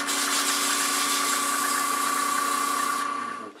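A wooden burl box spinning on a lathe while being sanded with 180-grit paper gives a steady, loud motor whine with a droning hum; the machine cuts off near the end and winds down.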